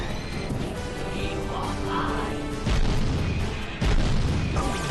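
Explosions in the video game Jak & Daxter rumble and crash loudly, with a sustained booming roar that jumps in intensity twice, layered over game music and effects.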